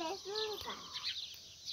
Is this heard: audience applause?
no